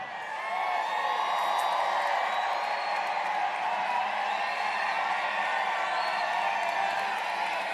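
A large outdoor political rally crowd in Moon Township, Pennsylvania cheers and whoops steadily at a distance, a dense sustained roar that swells early and holds fairly even throughout.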